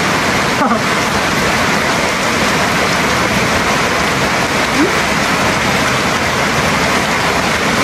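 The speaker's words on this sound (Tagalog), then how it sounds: "Ulan din" Steady rain falls in an even, loud, continuous hiss close by, unbroken from start to finish, with a faint short vocal sound early on.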